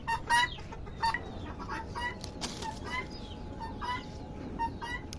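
Backyard chickens cluck and squawk in a lively, irregular chorus at moderate distance, with a few louder calls standing out over steady outdoor background noise.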